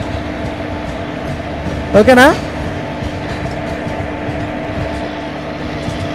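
WAP7 electric locomotive running on a Himachal route in the Trainz Simulator game, a steady rumbling hum of the moving train with a brief loud tonal horn-like blast midway and a short spoken word over it.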